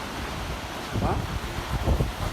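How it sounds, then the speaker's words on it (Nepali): Strong windstorm buffeting the microphone during a storm in Chitwan, a continuous low roar with gusts swelling louder in the second half, with no clear speech. "हावाहुरी डह्रोभन्दा डह्रो आइरहेको छ"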